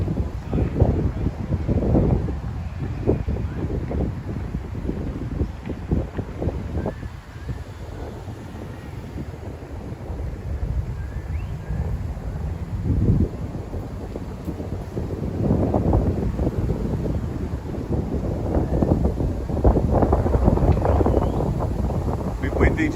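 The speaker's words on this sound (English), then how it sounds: "Windy today, as you can hear." Gusty wind buffets a microphone on a riverbank walk in Rockhampton, low rumbling bursts that rise and fall, heaviest at the start and again near the end.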